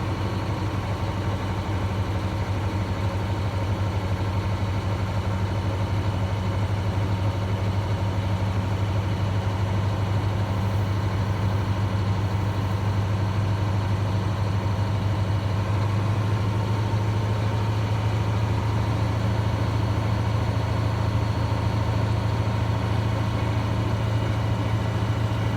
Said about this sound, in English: I'm going to raise up the RPMs between 10 to 15 to build up the pressure a little bit faster.